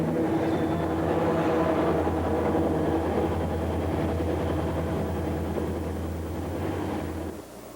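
Three CSX diesel helper locomotives, C&O SD50 8630, C&O GP40-2 4385 and B&O GP40 4030, pass with a loud, steady engine roar and deep rumble that holds throughout and eases slightly at the very end.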